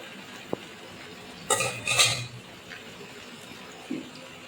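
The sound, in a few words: stirring pangas fish roe and oil with potatoes in pan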